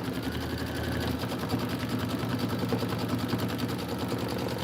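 An embroidery sewing machine stitches out a design with a fast, steady mechanical chatter of rapid needle strokes, close and continuous.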